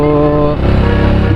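Motorcycle engine idling loud and close in a roadside street in Azad Kashmir as it is parked, a steady harmonic drone that drops to a lower, choppier putter partway through, no speech.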